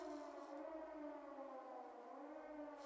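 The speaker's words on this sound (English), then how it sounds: "But all we hear are the sirens now." Wailing civil defense sirens sound continuously and fairly distant, their steady harmonic tones sustained without a break for the whole stretch.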